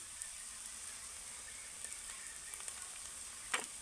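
Potato filling stirred and fried in a pan makes a soft, steady sizzle with occasional light scrapes of the spoon, quiet and without speech.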